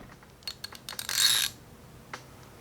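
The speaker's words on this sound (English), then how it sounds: "The other thing about this ratchet is it seems to have a little more back drag than a lot of other ratchets." A Craftsman Overdrive ratchet with noticeable back drag clicks nearby, a quick run of sharp metallic ticks rising into a brief dense burst of clicking, then one last isolated click in a quiet room.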